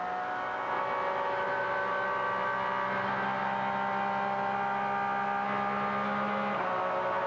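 A race car at full throttle in a 2003 Grand-Am sports car race, steady engine drone with a sustained high-pitched whine at constant pitch, loud and continuous, with a slight shift near the end.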